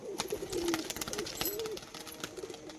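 A pair of pigeons coo in soft, repeated throaty calls close by, with light rustling and clicks around them and no talk.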